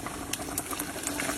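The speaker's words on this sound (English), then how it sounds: "Wait, you hear that sizzle?" Rendered bacon fat sizzles in a pot while collard greens are being made, a steady close crackling hiss with small pops scattered throughout and no talking.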